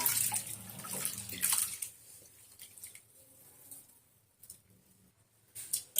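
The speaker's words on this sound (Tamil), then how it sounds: "இந்த 3வது உப்பு போட்டு கழுவுறேன்" Rice being washed by hand with salt in a bowl of water, close sloshing and splashing that is loudest early on, then quieter swirls and drips with another splash at the end.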